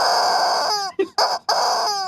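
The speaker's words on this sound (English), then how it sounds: "I got a squeaky chicken for Christmas." A squeaky rubber chicken toy lets out a few loud, drawn-out, wheezy squeals close by, split by short breaks, with no voices.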